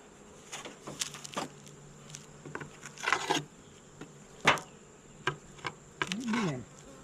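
Honeybees buzz around a backyard hive troubled by hive beetles, a steady drone broken by louder bursts as individual bees fly close past, with no talking.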